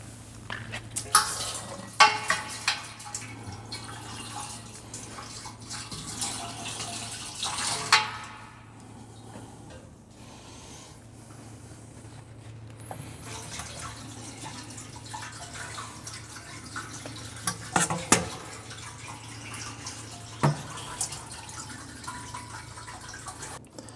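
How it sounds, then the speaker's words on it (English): Liquid from a baijiu rice mash siphoned into a still through a colander, a continuous trickling and splashing flow with intermittent drips, close and steady throughout the clip. "I think that's about all I can sensibly siphon."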